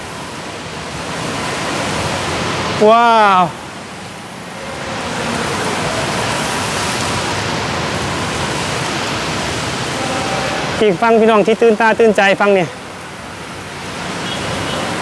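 Heavy rain pours steadily in Bangkok as a broad, even hiss beneath excited talk, with speech breaking through near the start and again toward the end.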